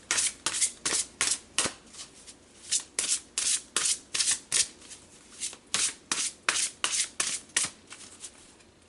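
Tarot cards shuffled by hand in a quick, regular run of about two dozen crisp riffling bursts, close and clear with no talk.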